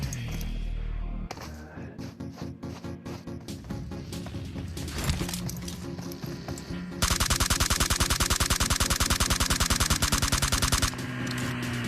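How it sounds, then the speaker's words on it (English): Automatic gunfire in a competitive battle-royale video game match, shooting out the tires of a buggy; a dense, sustained burst of rapid shots with a long continuous stretch near the end over busy game sound. "I think maybe he shot the tires out."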